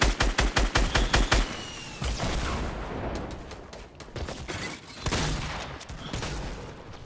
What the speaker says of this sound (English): Oh, I'm getting sniped at.